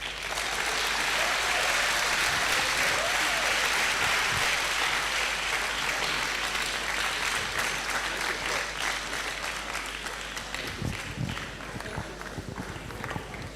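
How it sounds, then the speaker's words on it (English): A long, dense round of applause from a lecture audience after a professor's talk, steady and fairly loud throughout, with a few scattered voices underneath. "A bigger round of applause, please."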